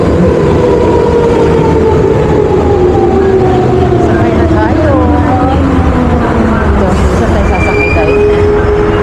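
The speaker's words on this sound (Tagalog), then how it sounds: "Padating na yung train." A long train pulls into Kifisia station with a heavy rolling rumble and a slowly falling motor whine as it brakes, with brief high squeals near the end; voices murmur faintly in the background.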